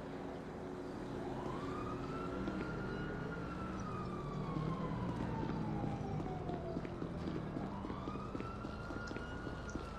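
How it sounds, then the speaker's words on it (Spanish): A police siren wails in the GTA video game, steady rising and falling sweeps over a dense rumble of engine and street noise, loud and continuous throughout. "Uy, escucho la sirena."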